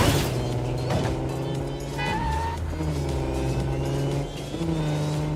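A Mini's engine in the video game Neverness to Everness drones steadily with shifting pitch as it accelerates, set against other layered game sounds.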